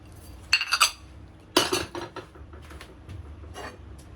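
Glazed ceramic garlic dishes clink against each other while being unloaded from a kiln: a quick cluster of sharp clinks, then a louder knock with rattling, and a few fainter taps, close by with no talking.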